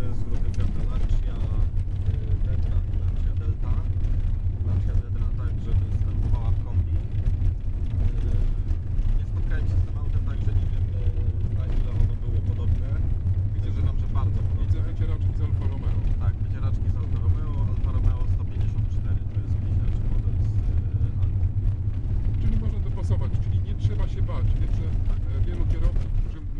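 A Fiat Tempra drives along with a steady, loud low engine and road rumble throughout, while people talk inside the car over the noise.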